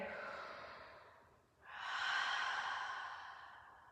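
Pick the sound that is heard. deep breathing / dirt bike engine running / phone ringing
deep breathing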